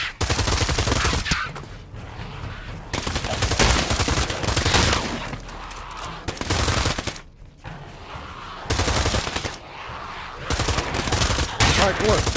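Dual Uzi submachine guns firing in the VR shooter Pavlov, several loud, dense bursts of rapid automatic fire separated by short pauses, with a voice speaking briefly between them.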